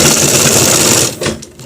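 An electric sewing machine stitches a shirt collar, running in a fast, loud, continuous whir for about a second before stopping abruptly.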